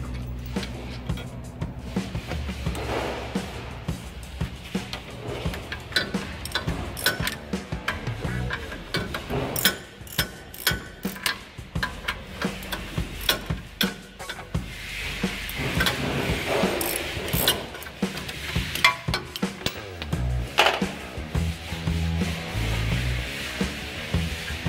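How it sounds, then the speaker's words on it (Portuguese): Ratchet wrench working on a bolt at the front hub of a Toyota Hilux 2.8 SR5 4x4 during wheel-hub disassembly: repeated close metallic ticking and clicking with rubbing and clinks throughout, fairly loud, without talk. "agora a gente vai tirar o parafuso aqui, ó. Tem essa pausa aí pra pegar essa catraca aqui e a chave do cubo"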